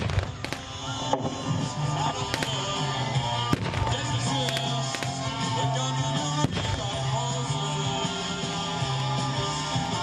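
Suppressing gunfire during a TankFest infantry assault demonstration with a Challenger 2 tank and Warrior vehicle: dense, continuous rattling bursts and cracks over a constant heavy engine rumble, loud and crowded throughout.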